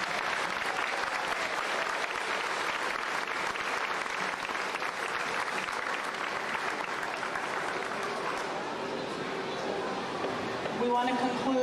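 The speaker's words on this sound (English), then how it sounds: "Let's give all the kids a round of applause." An audience claps for the children at a Safety Town closing event, with dense, steady applause that holds loud throughout and tapers slightly near the end.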